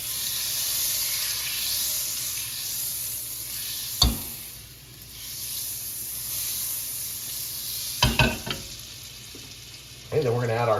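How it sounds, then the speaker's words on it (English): Butter and avocado oil sizzling in a hot pan over medium-high heat, a loud, steady hiss throughout, broken by a few sharp clacks and a brief voice near the end. "we're gonna add about a tablespoon of butter to the pan and then about a tablespoon of avocado oil"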